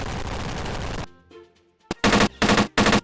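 Assorted weapons fired at test dummies in Roblox: a sustained dense burst of automatic fire, a short lull with scattered small sounds, then a single sharp shot followed by three loud, evenly spaced bursts of rapid fire.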